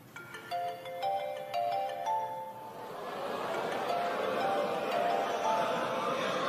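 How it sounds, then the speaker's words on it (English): Mobile phone ringtone chiming in a stand-up comedy audience, a repeating melodic tone that fades into crowd noise and laughter. "Go on and answer your phone"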